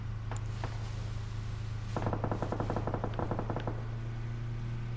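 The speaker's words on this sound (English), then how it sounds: "Who is that guy shooting at?" Automatic gunfire in PUBG on PS4: two isolated shots early, then long rapid bursts of many evenly spaced rounds from a middle distance, over a steady mechanical hum.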